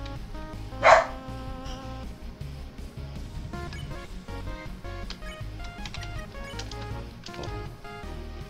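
A neighbour's dog gives a single sharp bark from next door, heard once early on above continuous electronic game music that carries on throughout.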